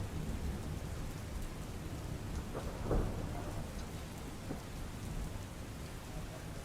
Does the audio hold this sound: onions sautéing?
no